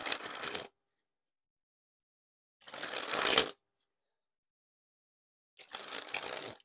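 Bicycle Glider Back playing cards sprung from hand to hand in three separate bursts, each a rapid, crisp fluttering riffle lasting about a second, close and clear with silence in between.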